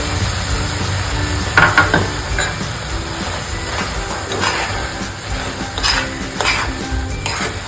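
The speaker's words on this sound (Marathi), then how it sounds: "पाव वाटी मी साखर घेतली आहे, ती आपण मिक्स करूया।" Sugar being stirred into carrot halwa in a pan gives continuous sizzling, with repeated spoon scrapes and clinks against the metal coming in irregular bursts close by.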